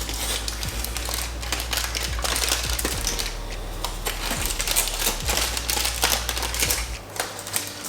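Foil eased off a baked bread and butter pudding with Baileys Irish Cream, giving soft, scattered crinkly ticks and clicks over a steady low hum, close by and without speech.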